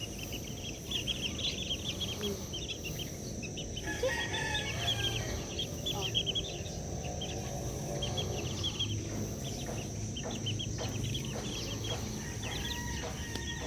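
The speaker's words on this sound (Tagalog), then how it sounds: "ang aking umaga kasamang mga sisiw, yung bagong lipat na mga sisiw" Newly moved young chicks peep continuously in a dense chorus over a steady farmyard background, with occasional louder chirps from nearby birds.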